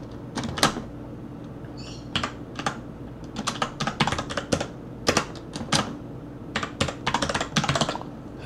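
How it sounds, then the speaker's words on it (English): A password being typed on a computer keyboard while setting up a SuperX Linux 3.0 install: a run of crisp, close key clicks in irregular bursts over a faint steady hum, with no talking. "We're going to put in a password."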